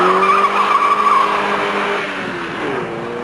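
A 1985 GTI hot hatch accelerates hard from a standing start for a kilometre run, engine note climbing loudly with tyre noise before it shifts and continues pulling.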